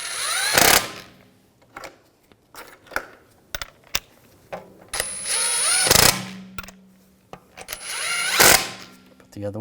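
A hand ratchet clicks in short bursts as wheel lug bolts are snugged down on a 2007-2013 BMW 328i, with a few louder metallic knocks between runs and someone speaking over parts of it.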